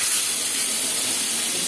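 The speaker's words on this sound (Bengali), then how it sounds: "তরকারিটা টকবক করে ফুটছে" A pan of curry (with bay leaf, fried in oil, then water added) boiling hard, giving a steady, loud, broadband hiss and bubbling with no breaks and no voices.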